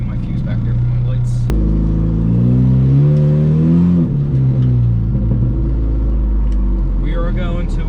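A PT Cruiser race car engine accelerates in first gear, a loud close rumbling drone that rises in pitch and then falls back, with occasional voices over it.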